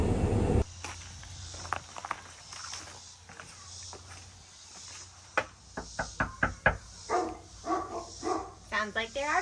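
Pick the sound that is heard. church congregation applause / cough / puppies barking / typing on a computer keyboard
puppies barking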